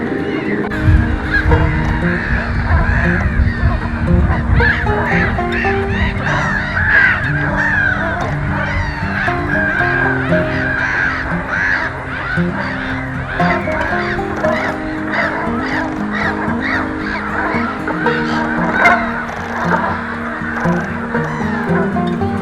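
A flock of dark-bellied Brent geese keeps up a steady, dense chorus of low, throaty honking calls, close and loud, overlapping continuously throughout.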